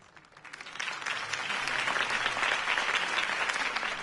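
Crowd applause swells after Harvey Dent's campaign speech in the Batman Telltale video game, a dense steady wash of many hands clapping that builds within the first second and holds loud and continuous.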